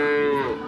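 A calf at a rodeo lets out a single sustained moo, loud and close, with a steady harmonic tone that wavers slightly toward the end.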